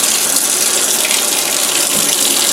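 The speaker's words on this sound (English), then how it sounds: "So we're going to fill it up and test it for leaks." Tap water pours steadily into a kitchen sink fitted with a newly installed basket strainer, a loud, close, continuous hissing gush.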